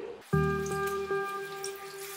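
Filtered water pours from a container over chicken carcasses in a slow cooker, starting as a sudden splash and settling into a steady, close trickling stream.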